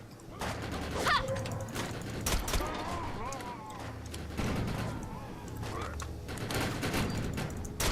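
Rapid bursts of gunfire from the shooter video game Defiance crackle through a busy mix of other game sounds, with a voice speaking over parts of it.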